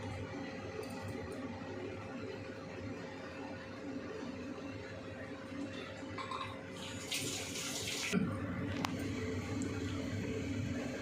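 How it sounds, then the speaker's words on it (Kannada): Water at a rolling boil in a cooking pot for vegetable masala bath, a steady low bubbling and hiss continuing throughout, with a brief clink near the end. "ಚೆನ್ನಾಗಿ ನೀರು ಕುದೀತಾ ಇದೆ"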